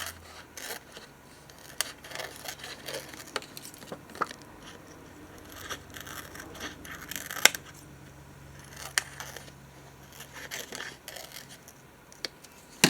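Scissors snip around a real dried leaf being trimmed for a paper journal, giving soft, scattered crisp cuts and light rustling at close range, with no one talking.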